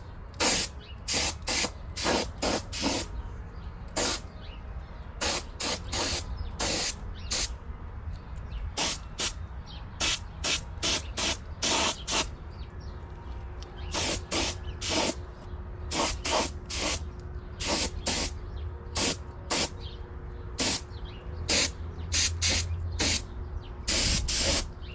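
Repeated short bursts of spray paint hit Honda CB500 engine covers from a 1972 project bike, each hissing blast lasting about a second with brief gaps, close and loud against a quiet background.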